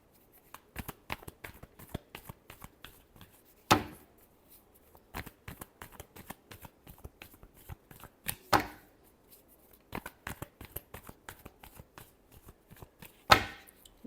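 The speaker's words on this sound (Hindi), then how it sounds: "last shuffle" Tarot cards shuffled by hand in a quiet room, a steady run of soft papery riffles and flicks, with a few sharper slaps of the deck standing out every few seconds.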